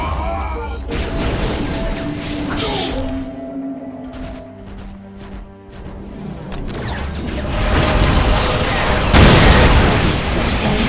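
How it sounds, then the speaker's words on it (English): Incoming enemy fire in Dawn of War Soulstorm, a Warhammer 40K strategy game, brings a dense, continuous roar of booming explosions and clattering mechanical noise that swells louder toward the end, with a few sharp bursts standing out. "Incoming enemy fire."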